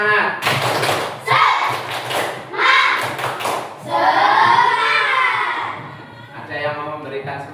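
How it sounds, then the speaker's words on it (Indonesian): A group of students performs a rhythmic spirit clap, with bursts of clapping and thumping in a set pattern alternating with chanted voices, close and loud. "Tepuk semangat."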